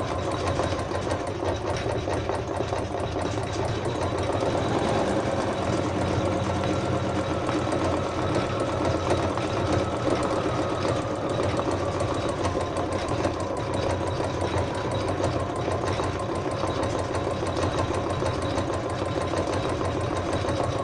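An embroidery machine hums and chatters continuously at a steady pace while stitching out a Sue Bonnet Sue design, a close, even mechanical drone without pauses.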